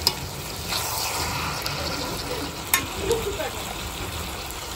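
Ground spice paste frying with a little water in a pan, a steady soft sizzle throughout with a few faint stirring clinks, close and moderately loud.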